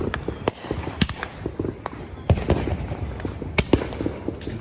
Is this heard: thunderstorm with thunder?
no